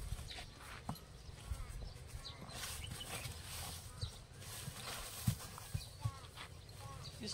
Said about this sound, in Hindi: दोस्तों देखिए, प्योर सिंधी नस्ल का घोड़ा है।